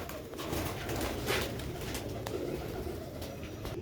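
Sialkoti rooftop pigeons coo softly in a low, continuous murmur, with faint rustling and a few light clicks nearby.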